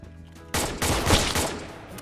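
Rapid gunfire in the Roblox game Unit 1968, a Vietnam War shooter: a dense burst of loud, overlapping shots erupts after a brief lull and rattles on for over a second before tapering.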